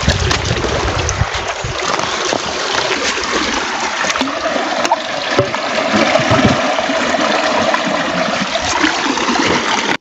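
Rainwater diverted toward a village field pours and gushes loudly and continuously, a close, turbulent rush of flowing water with splashing throughout.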